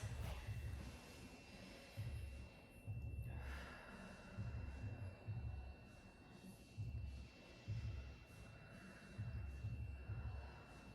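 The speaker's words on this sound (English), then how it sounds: "let's take 3 deep breaths" Slow, deep breaths taken together before a prayer, heard as a run of soft, low, rumbling puffs close to the microphone, coming in a steady rhythm roughly every second or two with no clear talking.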